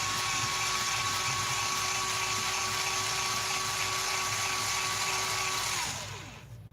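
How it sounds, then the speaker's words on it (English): An electric sharpener whirs loudly and steadily while grinding a small colored pencil nub, then winds down to a stop at the end. "I need to sharpen this little nub so I hope I can."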